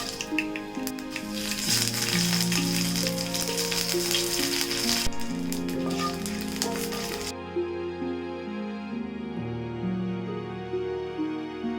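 Mustard seeds, green chilies and curry leaves crackle and sizzle in hot coconut oil for a beetroot pachadi, a dense hiss beneath loud background music that cuts off after about seven seconds, leaving the music alone.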